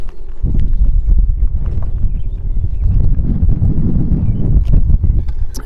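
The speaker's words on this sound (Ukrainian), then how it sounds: "вітер такий звіявся, дує вітер" Gusty wind buffets the microphone at a Carniolan beehive inspection, with low, rumbling thumps and a steady rush, loud and close throughout, with faint clatter in the background.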